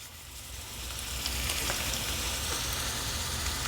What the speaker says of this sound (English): So if you can hear, I'm definitely getting a sizzle